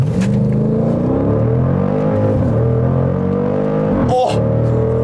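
Jeep Grand Cherokee SRT V8 at full launch-control acceleration on a straight road, loud engine roar climbing steadily in pitch through the gears with a brief shift dip near the end, close-up from inside the car.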